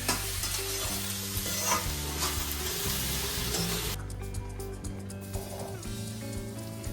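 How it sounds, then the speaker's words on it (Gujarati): Manchurian balls are tempered in a pan with masala and black pepper powder, producing a loud continuous sizzle with rhythmic stirring scrapes that drop to a quieter hiss toward the end. "ચડી જાય એટલે આપણે એમાં મસાલો નાખી અને મરી પાવડર નાખી અને મંચુરિયનનો વઘાર કરી દઈએ."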